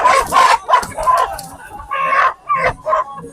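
Wolaita and Habesha chickens at a busy Ethiopian Christmas holiday market: a rooster crows loudly and repeatedly close by, with clucking and a dog barking in a dense outdoor clamor.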